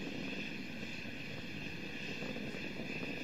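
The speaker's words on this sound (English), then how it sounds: "Three good engines throttling back to 2/3 of the rate of thrust." Space Shuttle Discovery's main engines roar steadily during the STS-116 launch ascent, a continuous broadband rumble with hiss, heard from onboard as the engines throttle back near maximum dynamic pressure.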